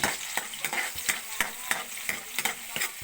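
Garlic and onion sauté in a pan, a close, bright sizzle punctuated by regular scraping strokes of a spatula, roughly three to four per second, with no voices.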